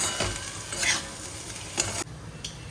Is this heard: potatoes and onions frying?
yes